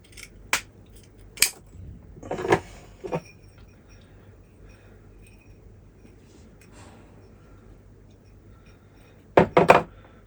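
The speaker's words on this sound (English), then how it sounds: "So we'll cut a little bit screen to go in the bottom." Scissors snip mesh screen to line the bottom of a bonsai pot while repotting a larch, giving a few sharp, close cuts near the start and a quick burst of snips at the end, with quiet pauses between.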